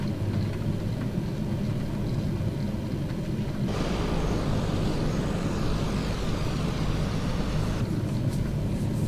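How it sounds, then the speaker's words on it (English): Captain Sim's C130 military transport aircraft in Microsoft Flight Simulator 2020, its engines giving a steady, loud turboprop drone and roar with constant rumble, unchanging throughout with no voices. "See just how well this Captain Sims aircraft follows the flight plan."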